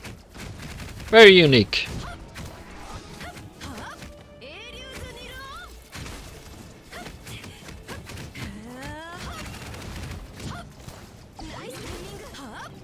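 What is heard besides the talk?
turrets firing from Cullen's ultimate in video game Honkai Impact 3rd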